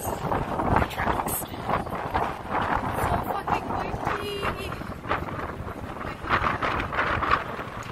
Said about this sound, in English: it is so freaking windy